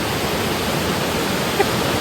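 A river in the Spanish Pyrenees rushing steadily, a dense, even roar of flowing water that fills the whole moment without a break.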